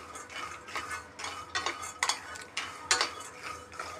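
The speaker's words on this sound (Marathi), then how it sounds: "बघू शकता अशा प्रकारे मी शेंगदाणे छानपैकी भाजून घेणार आहे." Peanuts being dry-roasted in a pan and stirred, giving repeated scraping and rattling strokes close up in a steady rhythm, with no voices.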